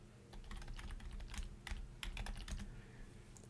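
Typing on a computer keyboard to enter a new username, a steady run of quick, close key clicks with short bursts and brief pauses, no voices.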